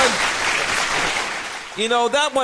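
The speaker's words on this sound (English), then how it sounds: "Big round of applause for that one." A burst of clapping and cheering from a small group fills most of the moment, dense and broadband, before voices break in near the end.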